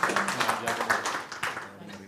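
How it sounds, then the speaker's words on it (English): At a symposium on marine protected areas, an audience gives scattered, fairly close clapping that fades toward the end, mixed with a voice talking. "So give a big round of applause to all the organizing committee for this event."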